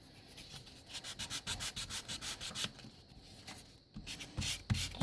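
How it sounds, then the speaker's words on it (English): A reliefing block rubs over painted leather in quick back-and-forth sanding strokes, a close, dry, raspy scrape that holds steady for a few seconds, then stops briefly before a few heavier rubs. "Try to sand this a little bit."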